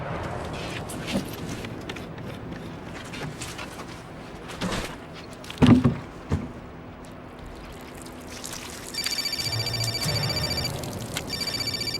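A telephone rings repeatedly near the end with a bright electronic trill, heard over a low, steady background rumble and scattered thumps.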